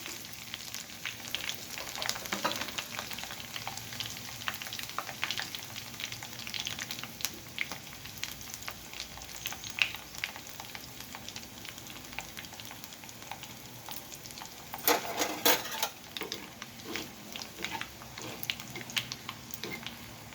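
Garlic and dried red chillies frying in hot oil with mustard seeds for guava pickle, a steady soft sizzle with faint crackles and a brief burst of stirring and spattering partway through.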